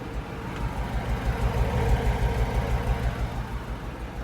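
A car engine idles with a steady low rumble and an uneven, knocking texture, moderately loud and close, with no talking.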